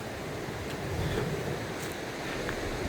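Ocean surf washes onto the beach at the far end of Tuvalu, a steady broadband rush with light wind buffeting the microphone, continuous and moderately loud for a few seconds.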